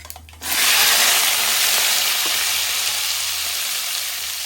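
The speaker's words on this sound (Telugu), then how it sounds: "ఉడికించుకున్న ఎగ్స్ కట్ చేసుకున్న మిర్చి అలాగే ఆనియన్స్ చామదుంపలు అన్నీ ఆయిల్లో వేసేస్తున్నాను ఇప్పుడు" Boiled eggs, cut chilies, onions and taro hitting hot oil at once, a sudden burst into a dense, steady sizzle that stays loud and close.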